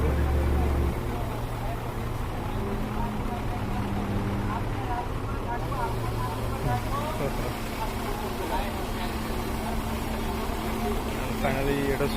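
An excavator easing down off the back of a large truck, its engine idling in a low steady hum with faint mechanical shifts, as people chat in the background.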